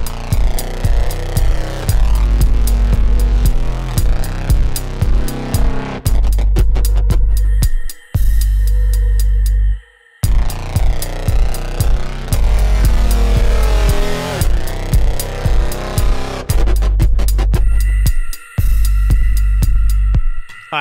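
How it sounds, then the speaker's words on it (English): A loud, bass-heavy electronic dance track driven by bright synths and a pounding beat, with brief dropouts where the music cuts out. "we got a big synth-driven EDM-style song"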